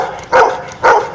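A human voice imitates a dog barking, giving two short, loud woofs about half a second apart in an indoor setting.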